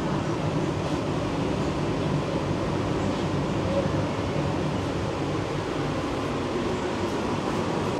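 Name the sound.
Sealdah to Ranaghat AC local train running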